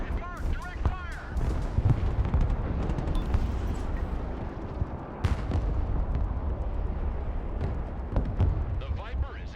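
Artillery fire in the real-time strategy game Broken Arrow, repeated booming blasts and crackling impacts rolling through a dense, noisy battlefield soundscape, with sharp reports spaced across the clip and brief voice lines over it.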